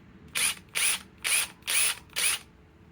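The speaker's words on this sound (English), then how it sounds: "Dewalt XR DCF 845 with a 5 amp power stack" A DeWalt XR DCF845 impact driver fitted with a right-angle adapter and a 5 amp power stack battery fires in five short, evenly spaced bursts of close, loud whirring, each lasting about a third of a second, with brief quiet gaps between.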